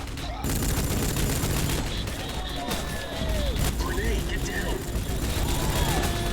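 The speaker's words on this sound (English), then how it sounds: "That was an airburst grenade, apparently." Gunfire and blasts from the 2006 video game Rogue Trooper, including an airburst grenade explosion, come as a dense, continuous battle mix of rapid shots and booms that carries at steady loudness through the whole stretch, with no voice present.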